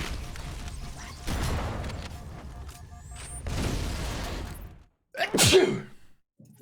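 A single sharp sneeze bursts out close to the mic at the end of a stretch of game-related noise and chatter from a Halo session, followed by a brief gap of near-silence.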